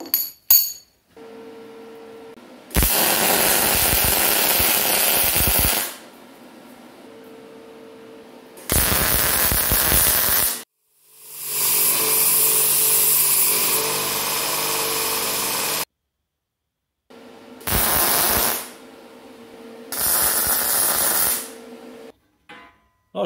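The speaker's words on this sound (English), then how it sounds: "we'll get them on the welding table and get them welded together" Steel gusset brackets being welded onto a monorail hoist frame at a welding table: several loud bursts of harsh, crackling arc noise of varying length, separated by short silences.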